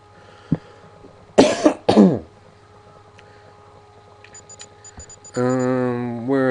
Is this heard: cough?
yes